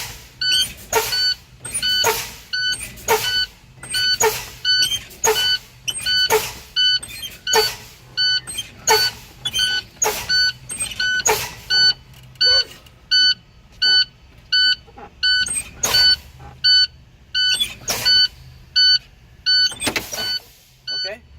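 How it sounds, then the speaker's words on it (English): Truck air brakes are fanned during an air brake test. About twenty sharp hissing bursts of released air pressure come in a regular rhythm, each paired with a brief electronic warning beep, and the pulses grow more spaced toward the end. "For this, I'm gonna fan my brakes now."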